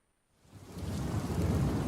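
Heavy rain with rolling thunder builds from near silence into a dense, steady roar, loud and continuous with no voices.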